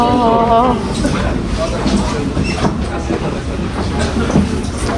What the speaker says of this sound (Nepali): ट्रेन आयो हामी चाहिँ अब यहाँबाट सर जानुपर्ने हुन्छ